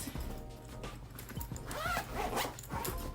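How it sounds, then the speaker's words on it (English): A zipper on a BÉIS convertible weekender bag is pulled open in a close, continuous ragged rasp with uneven bursts as it travels around the bag, with faint handling noise and no talking. "There's a zipper back here, and you can go all around to the front."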